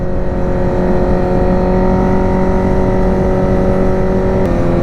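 A 1000cc motorcycle pulls hard under open throttle, its engine a loud, steady, high drone with a sustained tonal whine, heard up close with no speech.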